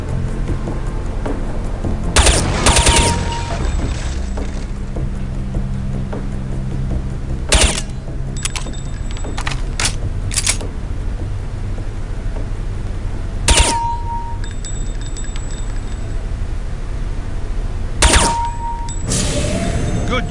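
Weapons fire at a training firing range in Counter-Strike: Condition Zero: sharp, loud single shots and short bursts spaced several seconds apart, some with metallic target clangs, over a low steady background hum.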